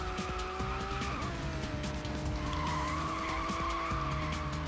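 Tires skid and squeal as a race car slides after a handbrake release in the Hot Wheels World Race video game, a steady loud screech with engine tones shifting throughout, no talk.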